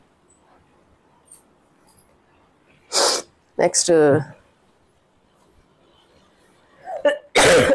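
A person with a cold and cough sneezes sharply three times, close to the listener, with quiet gaps between and a short spoken phrase after the second sneeze.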